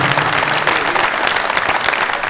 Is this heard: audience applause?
yes